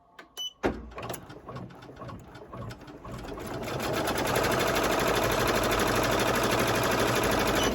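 A Ricoma EM-1010 multi-needle embroidery machine stitching a pink ribbon design starts with a few scattered clicks, then settles into a loud, dense, rapid mechanical chatter that holds steady to the end.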